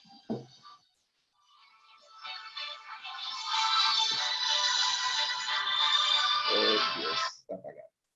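Mobile phone ringtone sounding during a webinar, a steady electronic ring lasting several seconds and then cutting off abruptly, with a few brief sounds before and after it and no speech over it.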